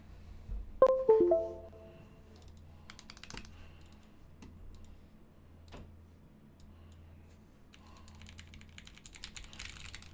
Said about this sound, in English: I'm gonna completely attempt to do a typing test